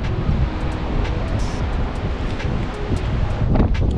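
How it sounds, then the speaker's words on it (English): Strong wind on a van rooftop buffets the microphone in a constant roaring rush, with gusts swelling louder near the end. "Bit windy up here"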